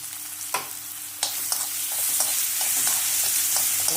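Chopped onion with cumin and asafoetida fries in hot oil for a beetroot curry, a loud close sizzle that swells and steadies as a spoon scrapes and stirs with a few sharp knocks.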